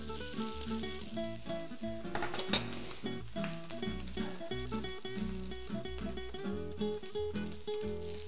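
A piece of food seared in a hot pan at Restaurant Cal Jet, with a steady, close, loud sizzle and frying crackle running throughout, backed by a rhythmic low thumping beat and no talk.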